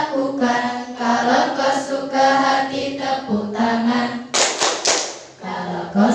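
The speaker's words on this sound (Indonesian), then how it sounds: "Kalau kau suka hati tepuk tangan" Children sing an Indonesian action song in a classroom lesson, with a short burst of handclaps breaking in partway through before the singing carries on.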